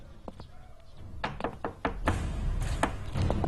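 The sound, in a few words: knocking on a studio door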